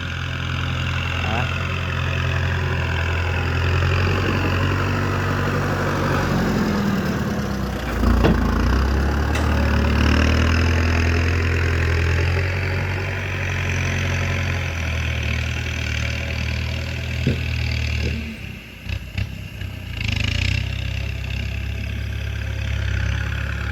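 A tractor engine idles and runs steadily nearby during road building, a low rumbling drone with occasional knocks and revs throughout.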